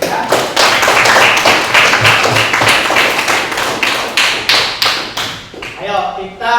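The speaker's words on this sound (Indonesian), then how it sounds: "beri tepuk tangan untuk kita semua dulu ya" A classroom full of students claps together at a teacher's request, steady rhythmic applause that fades out near the end as a voice starts speaking.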